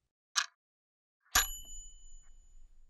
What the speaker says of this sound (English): And that's the cosmic bell.